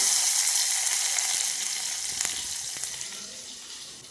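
Cumin, curry leaves and crushed garlic crackle steadily in hot tempering oil, a continuous close sizzle with a few sharper pops and no voices.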